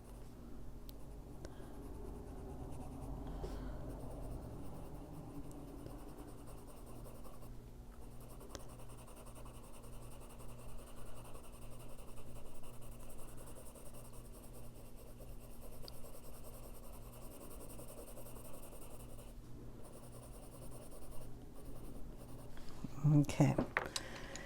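Soft, continuous scratching of colored pencils being worked across paper in a Disney Dreams Collection coloring book by Thomas Kinkade Studios, faint and close, with quiet strokes running steadily throughout and a brief louder rustle near the end.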